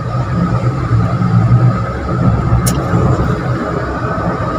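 A Wuling Air EV electric car in sport mode overtakes on the road, heard from inside as a loud, steady rolling hum of tyre and road noise with a low drone, without speech in this stretch.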